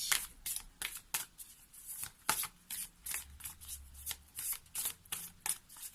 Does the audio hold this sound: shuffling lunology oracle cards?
yes